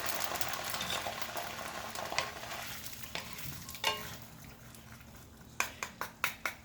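Chinese long beans stir-frying in a pan with water, a continuous soft sizzle and bubbling broken by sharp clacks of tossing, with a quick run of four or five knocks near the end.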